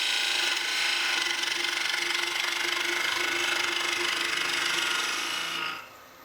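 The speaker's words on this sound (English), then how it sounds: "You can see on the movements of my spindle gouge that the wood is quite tough." A spindle gouge cuts tough wood turning on a lathe for a bird feeder, giving a steady loud scraping hiss that runs continuously for several seconds, then cuts off abruptly near the end.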